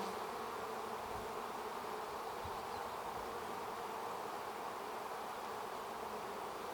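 Honeybees buzz in a steady, dense drone close by during an open hive inspection, a continuous even hum with no talk over it.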